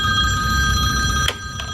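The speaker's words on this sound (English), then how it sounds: "Classroom support technicians are responsible for answering the phone when it rings." A telephone bell rings steadily and loudly in a university classroom support office, its bright tone filling the short moment with no voices.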